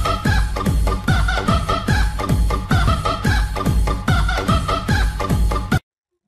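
A rooster clucks and crows in a fast, regular, repeating pattern, loud and close, then cuts off abruptly just before the end.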